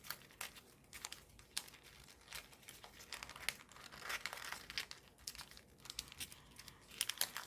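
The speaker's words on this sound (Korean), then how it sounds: "이렇게 나머지 세 군데도 똑같이 접어줍니다." Paper crinkles and crumples up close as it is creased and folded into an origami ninja spinning top, with quick, irregular rustles and sharp creasing snaps throughout.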